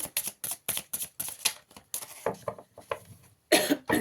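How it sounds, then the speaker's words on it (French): A person coughs repeatedly in quick, harsh bursts, close to the microphone, with a few short pauses and a heavier fit at the end. "ça vous casse pas les oreilles quand je tousse"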